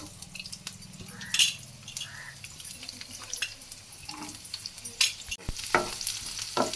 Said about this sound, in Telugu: ఇవి కొంచెం ద్వారగా గోల్డ్ కలర్ వచ్చేటట్టు వేపుకోవాలి.